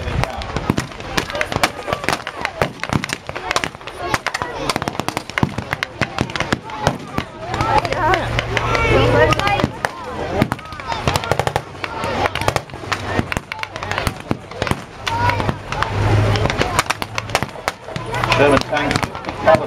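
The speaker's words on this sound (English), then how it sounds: "German infantrymen in the dugouts and the main trenches putting up small arms fire." Rapid crackling small arms fire from reenactors playing German infantry in trenches at a wartime battle reenactment show, dense irregular pops running throughout under a loud, close commentator's voice.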